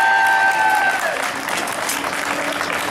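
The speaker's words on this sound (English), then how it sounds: "So a wee round of applause for them" A crowd at an outdoor march and rally in Freedom Square, Scotland, applauds the acts and speakers, with a steady wash of clapping and crowd noise. A brief tonal ringing sits over it at the start.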